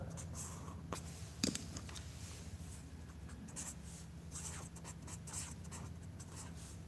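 Marker or chalk scratches on a board while a triangle is labelled, a steady faint run of short strokes and taps close by, with no talk over it.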